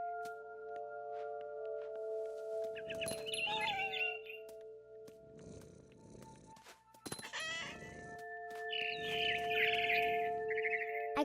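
Bird chirps and fowl-like calls ring out in What Remains of Edith Finch, several bursts of high twittering at intervals over a faint steady background tone, moderately loud and near.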